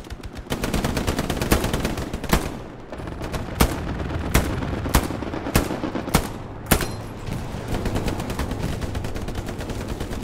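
Gunfire and artillery in the World War II shooter Hell Let Loose, with dense rattling automatic fire broken by several loud, sharp booming blasts spaced a second or so apart, no talk.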